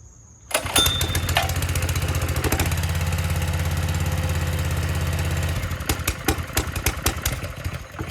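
A Honda small engine on a pressure washer, its carburetor just cleaned, is pulled and catches, running with a loud steady low chugging idle for several seconds before sputtering into irregular popping bursts, close to the microphone.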